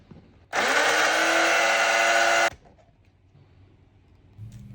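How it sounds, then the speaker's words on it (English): A kitchen blender whirs loudly for about two seconds, pureeing garlic, shallot and olive oil with a splash of water into a smooth paste for chili, then cuts off into a quiet room with no one speaking. "I'm going to add everything to my blender, along with some olive oil and a splash of water, and mix that until we have a smooth paste"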